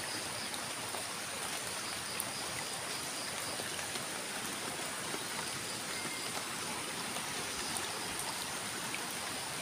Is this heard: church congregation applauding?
no